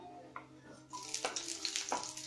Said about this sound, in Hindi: देखिए फ्रेंड्स, ऑयल गर्म हो चुका है। अब हम इसमें हरी मिर्च डाल देंगे